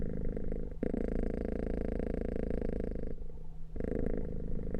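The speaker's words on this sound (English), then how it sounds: "I got a big cat." A big cat purrs steadily and close up, a continuous rumbling drone with a short pause near the end before it resumes.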